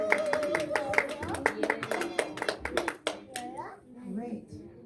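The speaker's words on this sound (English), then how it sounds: "Give Miss Nina another round of applause" Audience applause for a poet at a Black History Month tribute, a burst of scattered hand claps that thins out and fades within a few seconds, with voices speaking over it.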